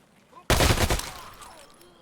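Escape from Tarkov gunfire, a loud close burst of rapid automatic shots that cuts in abruptly and fades into a lingering echo in a wooded map.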